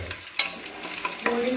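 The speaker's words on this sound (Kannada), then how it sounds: "ಈರುಳ್ಳಿ ಚೆನ್ನಾಗಿ ಗೋಲ್ಡನ್ ಕಲರ್ ಬರೋವರೆಗೂ ಫ್ರೈ ಮಾಡಬೇಕು" Onions frying in a pan until golden for chicken biryani, a steady soft sizzle with a few sharp clinks of stirring at close range, no voices.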